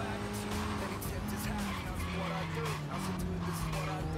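A Nissan Silvia S15 drifts in Forza Horizon 3, its tires squealing in long, wavering tones over a steady engine roar. The sound runs continuously, with a voice under it at times.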